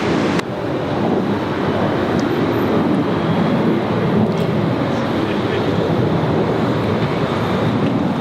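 Singapore Airlines jet taking off from runway 19 left at Brisbane Airport, heard as a continuous broad roar of engine noise and rushing air from a distance that stays steady throughout.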